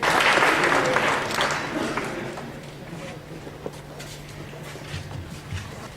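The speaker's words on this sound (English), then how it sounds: "why can't we give him another big round of applause, guys?" A crowd claps loudly at first after a presentation at a meetup, then the applause gradually thins and fades out over several seconds.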